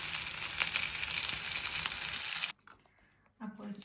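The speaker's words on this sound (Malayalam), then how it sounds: "എൻ്റെ മീൻ വറുക്കുകയാണ്." Fish fries in a pan for a home-cooked lunch, making a loud, dense sizzle for about two and a half seconds that then cuts off abruptly into near silence with a faint sound at the end.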